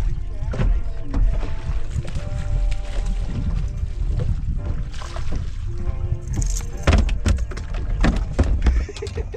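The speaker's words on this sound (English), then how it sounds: "I heard a boat coming." Engine drone of a boat out on a lake, a steady low rumble that holds fairly loud throughout, with wind buffeting the microphone and a few knocks and splashes near the dock.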